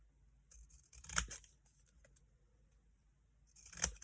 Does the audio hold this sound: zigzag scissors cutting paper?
yes